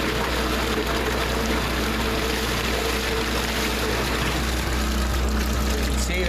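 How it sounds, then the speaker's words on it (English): A Liberty Omnivore grinder pump with a dual capacitor motor chopping waste: a loud, continuous, even whirring drone that holds steady throughout. "You heard it slow down for a second. That's the dual capacitor motor."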